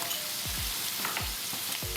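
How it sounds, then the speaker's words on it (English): Buff meat sizzles steadily in a hot pan, with a few soft scraping stirs breaking through the constant crackle. "Now that the buff meat is halfway cooked, let's add some salt."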